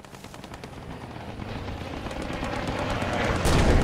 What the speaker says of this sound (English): I don't know if you've been listening to the shots